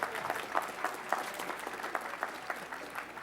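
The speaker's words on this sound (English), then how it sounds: "One more round of applause for all those students who are helping out today." Applause from a crowd at the 2011 Elmhurst College 140th commencement ceremony, a steady wash of hand claps with scattered sharper claps standing out, fairly faint and distant throughout.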